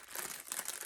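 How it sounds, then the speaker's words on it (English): A plastic bag crinkles close by in a brief, dense burst of papery crackling that lasts under a second. "And now prepare for a bit of crinkling."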